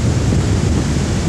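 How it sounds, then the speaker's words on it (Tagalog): Strong wind roars steadily across the microphone high on Mount Arayat, a loud, continuous gusting rush with no breaks and no voices. "ito naman po ang napakalakas na hangin"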